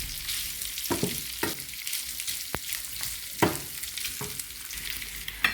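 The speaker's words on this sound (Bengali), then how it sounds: "পানি ছাড়া বাদা করবো, শুধু পেঁয়াজটা বাদামি কালার করে বেজে নিচ্ছি।" Chopped onion browns in a pan with no water added, giving a quiet continuous sizzle broken by regular scrapes and stirs of a spoon, close up with no voices.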